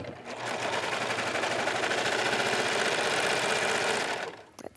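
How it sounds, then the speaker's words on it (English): Serger stitching a knit seam with elastic, running as a steady, fast mechanical whir with a rapid needle rhythm, close and loud, stopping abruptly near the end. "serging off my seam allowance"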